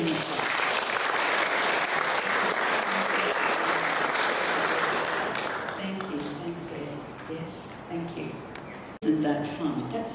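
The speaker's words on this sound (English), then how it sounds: "Let's give them a clap." A church congregation claps together in welcome, loud and sustained for several seconds, then fades out as a voice begins speaking.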